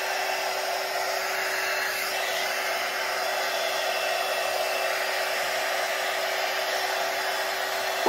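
A hair dryer runs continuously at close range for the whole stretch, a steady even whoosh while the front section of hair is dried before going into a roller, with no talking over it.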